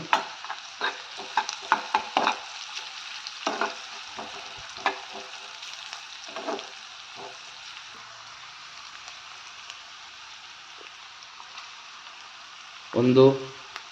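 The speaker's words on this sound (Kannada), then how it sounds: "ಕರಿಬೇವಿನ ಸೊಪ್ಪು ಹಾಕಿ ನೀಟಾಗಿ ಅದನ್ನು ಕೂಡ ಈ ಥರ ಫ್ರೈ ಮಾಡ್ಕೊಳ್ಳಿ" Curry leaves dropped into a hot pan for an eggplant gojju, crackling with quick bursts and spatters early on that thin to a faint background hiss, then a short louder scrape or clatter near the end.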